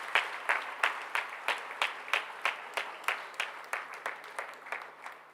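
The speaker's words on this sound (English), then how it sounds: "Please give a big round of applause." Rhythmic, fairly loud group clapping at a college inauguration ceremony for first-year BBA, B.Com and B.Sc classes, falling into a regular beat of about three claps per second that runs steadily to the end, with no voices heard.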